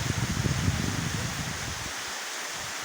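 Heavy rain and strong wind make a dense, continuous roaring hiss that rumbles unevenly in gusts and stays loud throughout, with no voices.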